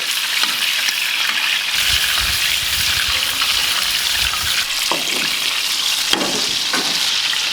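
Steaks sizzle loudly in clarified butter with rosemary and garlic in a pan, with a continuous hiss and splattering and bursts of spooning and basting.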